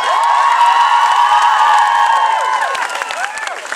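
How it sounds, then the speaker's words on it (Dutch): A crowd claps and cheers loudly and continuously, with whoops rising over the steady applause before it begins to thin out. "met deze woorden geeft nog een geweldig applaus"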